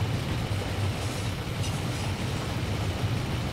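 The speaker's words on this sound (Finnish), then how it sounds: "juna ainakin on ohitettu" In the driving game My Summer Car, a train rumbles past in a steady, dense roar of low engine and rolling noise that fills the whole stretch without pause.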